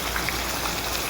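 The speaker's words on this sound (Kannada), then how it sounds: "ಎಣ್ಣೆ ಎಲ್ಲ ಫುಲ್ ಸಿಡೀತು, ಅದು ಕರಿಬೇವು ಎಲ್ಲ ಸಿಡಿತಾ ಇದೆ" Hot oil and curry leaves crackle and spit in a pan while stuffed brinjal is cooked, a dense, steady patter of fine pops at close range, with no one speaking.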